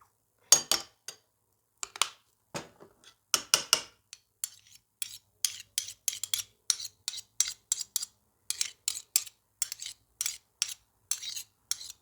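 A spoon mixes mustard and ketchup together in a small dish, producing bursts of scraping and clinking strokes, sparse at first and then in a quicker repeated rhythm, close and quiet with no voices.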